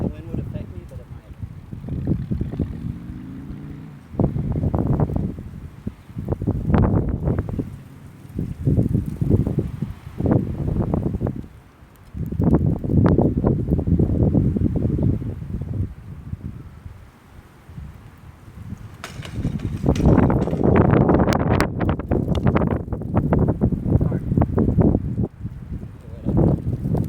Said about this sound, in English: Man, it's really windy.